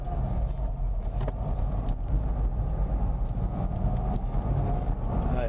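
Car engine pulling away slowly in first gear, a steady low rumble with continuous road noise throughout, moderately loud and close, with no talk.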